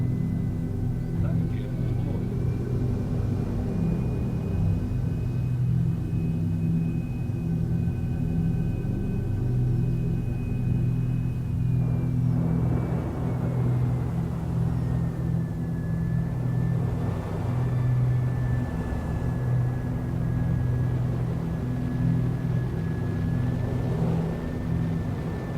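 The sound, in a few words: spaceship flying over a planet in Star Citizen video game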